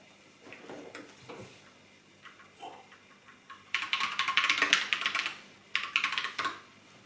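Keystrokes on a custom mechanical keyboard: sparse, faint clicks at first, then two dense, loud bursts of rapid clacking typing separated by a short pause, close to the microphone.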